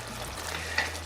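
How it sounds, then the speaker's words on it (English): Tomato sauce for chicken cacciatore spatters and sizzles in a pan, a steady broadband frying hiss with a sharper pop near the end, close and fairly quiet. "tomato sauce splattering everywhere"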